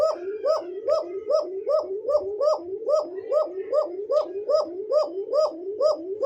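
Pigeons of a Bombay giribaz breed coo in a close, steady repeating rhythm, each call a rolling low croon followed by a brief higher note, about two calls per second for the whole stretch.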